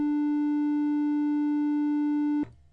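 A Moog Minimoog synthesizer plays a triangle-wave oscillator as a single steady, pure sustained tone held for over two seconds, then cut off abruptly with a brief soft thump.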